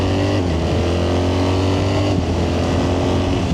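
A BMW R1300GS Adventure motorcycle with ASA automated shifting holds a loud, steady engine drone at speed, close up with wind rush, and its pitch and tone dip slightly partway through as a gear changes.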